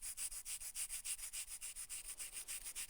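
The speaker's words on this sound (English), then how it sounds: "so I'll just use the sandpaper here" Sandpaper rubbed by hand over a shaped piece for a '32 Ford side mirror, in steady quick back-and-forth strokes about five per second, close and fairly quiet, with no talking.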